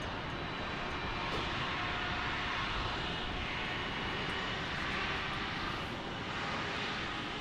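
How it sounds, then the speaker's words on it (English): An Airbus A220-100 jet departing from Salt Lake City, a broad, steady engine roar heard from a distance that swells slightly and holds throughout. "Our Airbus A220-100 just departing."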